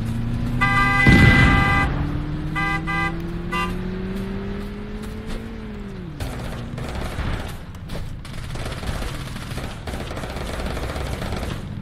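A car in Totally Accurate Battlegrounds, its engine drone rising steadily in pitch before dropping off, joined early by bursts of gunfire and a couple of horn-like toots, then clattering shots and impacts afterward.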